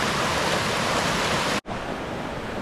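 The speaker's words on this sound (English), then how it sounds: "There's a lot of water moving through there." River water rushing over rocks on a trout stream, a loud, steady broadband roar that drops out for a split second before continuing slightly quieter.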